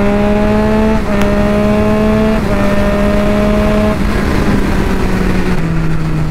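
A Triumph Street Triple 675 motorcycle engine held at a steady, loud high-rpm scream near its 13,000 RPM redline, with the pitch dipping slightly in steps, close by with no talk.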